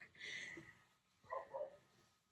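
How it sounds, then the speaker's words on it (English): A dachshund barks in the background, a few faint, distant yaps spread across a quiet room with no talking. "if you can hear that barking, that would be a weenie dog trying to get him to come out and play"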